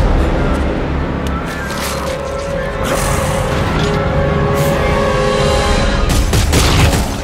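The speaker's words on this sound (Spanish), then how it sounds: "tenemos que darle un pequeño disparo para poder habilitar esto." Loud, dense gunfire bursts with booming impacts over a steady noisy background, an intense firefight in the video game Dead Space 3.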